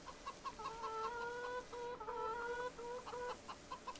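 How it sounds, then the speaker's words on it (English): Chickens cluck and chatter softly in Farming Simulator 22 on a farm, a few short tonal calls repeating in bursts over a quiet background. "Hello, chickens."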